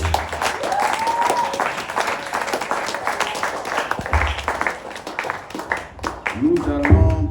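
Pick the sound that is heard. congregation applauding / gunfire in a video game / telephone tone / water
congregation applauding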